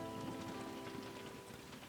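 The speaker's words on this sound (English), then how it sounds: "Another cold rainy day" Steady rain pattering outside on a cold day at an off-grid homestead, a soft continuous wash of drops with faint low hum beneath, fairly quiet and unbroken throughout.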